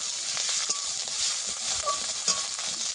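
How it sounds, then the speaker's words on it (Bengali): Ground cumin and coriander paste frying in a pan for a spicy fresh pond-fish curry, a close, steady hiss of sizzling oil with soft scraping stirs and a few light utensil clinks. "জিরে বাটা দিয়ে দেবো আর গোটা ধনে বাটা দিয়ে দেবো মশলা একসঙ্গে কষিয়ে নেব"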